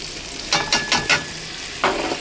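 A spice paste of ground mustard and poppy seed fries in hot oil with nigella and black mustard seeds, a steady hiss broken by several sharp stirring scrapes, close and fairly loud.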